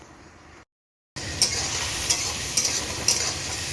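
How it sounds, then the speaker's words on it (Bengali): Cumin, whole garam masala, green chillies and onion frying in hot oil with steady loud sizzling and stirring, a brief silent gap near the start, then continuous crackle with a few sharp scrapes. "জিরে, একটুখানি গোটা গরম মশলা, কাঁচা লঙ্কা দিয়ে, পেঁয়াজ দিয়ে ভালো করে আগে তেলের মধ্যে ভাজছি"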